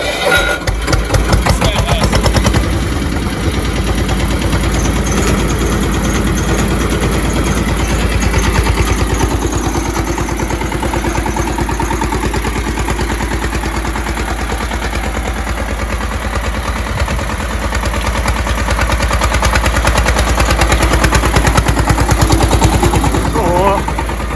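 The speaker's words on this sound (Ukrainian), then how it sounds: "Як я погазував" A Bulat T-25 or Zubr Z-250 walk-behind tractor engine starts and revs loudly, with a steady, rough mid-pitched chugging and sharp popping bursts that continue throughout, while people talk and laugh over it.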